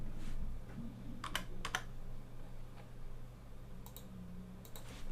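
Computer keyboard and mouse clicks while selecting all leads and pasting with a right click in a mailing system; a few sharp, scattered clicks and short typing bursts over a low steady hum, fairly close and quiet.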